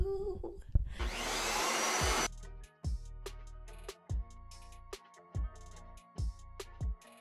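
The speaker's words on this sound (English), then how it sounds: "we're about to vacuum up these little dust mites" A small blue vacuum cleaner sucks up dust in a bedroom, giving a loud steady roar for about a second and a half, then cutting into short repeated bursts as the motor starts and stops.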